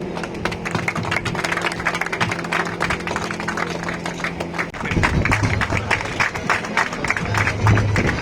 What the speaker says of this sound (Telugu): అందరూ క్లాప్స్ కొట్టాలి